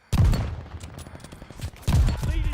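Gunfire from a weapon in a battle royale shooter game, a couple of loud heavy blasts with rattling echo and a quieter stretch between, close and punchy.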